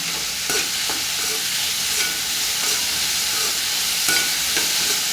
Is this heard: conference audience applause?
no